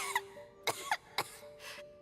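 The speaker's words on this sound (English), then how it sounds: "How long have you had that cough, Tonya?" Tonya, a character in Genshin Impact, coughs in four short dry bursts spaced across a couple of seconds, close and fairly quiet over a steady low background hum.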